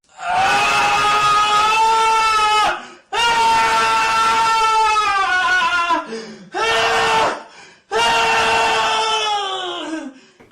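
Long, loud, drawn-out screams used as a sound effect in a spoken story, four wailing bursts separated by short silences, the last one trailing off.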